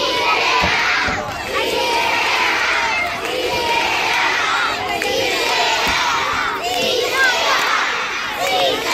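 School audience at an elementary school event in Santa Catalina cheering and shouting for sixth-grade students, a loud, sustained crowd roar with children's excited yells rising and falling in waves throughout.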